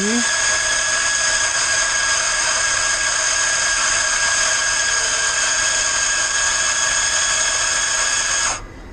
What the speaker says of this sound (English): we're going to go back to the coffee bean grinder.